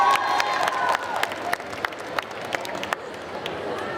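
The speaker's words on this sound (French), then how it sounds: "La sortie sous vos applaudissements, mesdames et messieurs." An audience claps and cheers at a cosplay parade during the Saint-Étienne Japan Manga Wave convention. The applause is steady and dense, with sharp individual claps standing out from the crowd noise.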